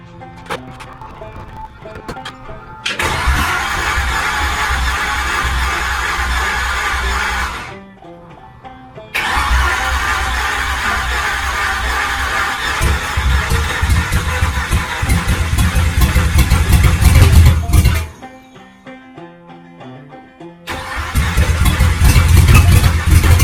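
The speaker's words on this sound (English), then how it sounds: "spin her over, see if she'll kick off and see if she'll start picking up gas" A 1965 Chevy 283 V8 in a rat rod cranks and catches in repeated long bursts of loud mechanical churning and rough running, broken by short pauses between attempts, close and dominant with no talk over it.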